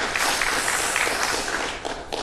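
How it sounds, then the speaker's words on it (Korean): A short burst of audience clapping at a Korean National Assembly constitutional amendment committee session, dense scattered hand claps at moderate volume, thinning out toward the end. "예, 박수 치시려면 화끈히 치셔도 됩니다."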